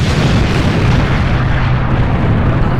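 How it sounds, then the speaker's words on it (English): A big explosion as a meteoroid crashes into one of Saturn's moons: a sustained, loud, dense rumbling roar that fills the whole stretch without a break. "Once a meteoroid crashed with one of those moons and there was a big explosion."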